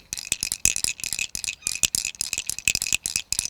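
Handheld rattle shaken in quick irregular bursts, a dry crisp clatter repeating throughout, close and fairly loud with no talking.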